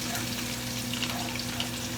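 Chopped onion, celery and garlic sauté in olive oil in a pan, giving a steady, soft sizzle and hiss that holds even and quiet from start to finish. Nobody talks.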